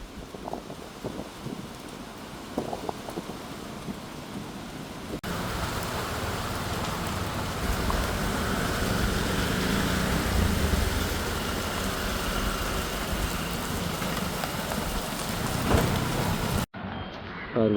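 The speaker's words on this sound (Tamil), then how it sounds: "சரியான மழை பெய்து பிரச்சனை காற்று அடிச்சு கொண்டிருக்கு" Heavy rain and wind, fairly subdued at first, then swelling into a loud, steady downpour with gusts buffeting the microphone.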